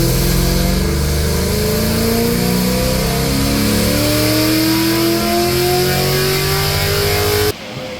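A Chevy SS with an LS3 V8 and BTR cam revs on a dyno pull. Loud engine tone climbs steadily higher in pitch for about seven seconds, then cuts off abruptly as the throttle closes.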